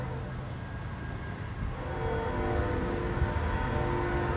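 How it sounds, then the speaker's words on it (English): A train rumbles past steadily, a dense low roar that grows a bit louder partway through and continues without pause. "Sorry about the train."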